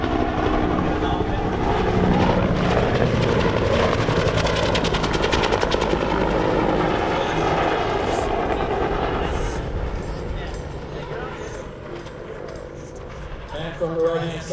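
A UH-1 Huey helicopter of a quick reaction force flies in with a loud, steady rotor and engine roar that eases slightly toward the end, with someone talking over it.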